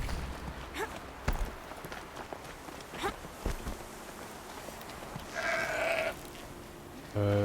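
A goat bleats a few times late in a sequence from the open-world video game Horizon Zero Dawn, rising over ambient game noise and soft footsteps with a faint outdoor hum.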